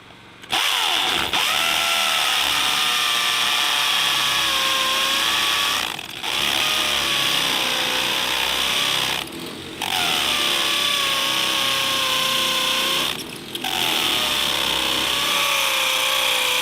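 Concrete anchors being drilled in at a Quonset hut with a power drill, a loud, high-pitched continuous whine broken by three brief pauses, close and alone.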